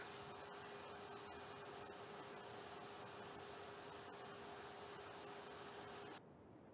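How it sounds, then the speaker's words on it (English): Vacuum cleaner removing mold from photographs while a soft brush guides it toward the nozzle, a steady continuous whirring drone that cuts off abruptly near the end. "use a soft brush to direct the mold towards the vacuum nozzle"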